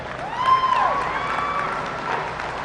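A crowd at the Alachua County Youth Fair and Livestock Show gives a round of applause, moderate and fairly distant clapping that holds steady through the short stretch, with faint background chatter.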